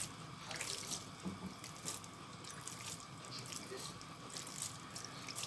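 Water sprinkled by hand over couscous grains in a home kitchen, a soft continuous splashing and trickling close by, steady and fairly quiet with no talk.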